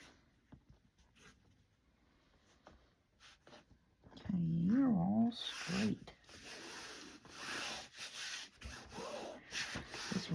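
Vigorous rubbing on a handmade tall, skinny Christmas craft piece, pressing the side pieces so they stay attached: a broadband scuffing rasp in uneven bursts through the second half, with a brief voiced sound mid-clip and quieter handling before.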